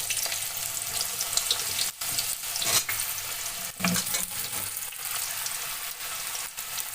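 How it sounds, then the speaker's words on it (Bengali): Hot oil sizzling loudly as sliced raw mango is fried in a pan with panch phoron and dried chillies, a steady crackling hiss with occasional stirring scrapes, no voices. "এবার দিয়ে দিচ্ছি কেটে ফালি করে রাখা কাঁচা আম"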